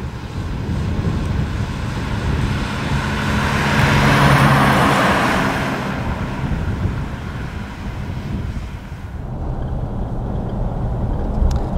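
A 1957 Mercedes 300 C Adenauer drives along, its engine and road noise forming a steady rumble heard from inside the car, with wind buffeting swelling and easing midway.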